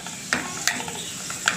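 Two large onions frying in native ghee for homemade shawarma, a soft steady sizzle broken by a few sharp spoon clinks against the pan, close and alone.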